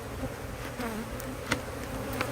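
A dense, steady buzz of many honeybees hums close by at a hive in late summer, with a few individual bees droning past, and no voices.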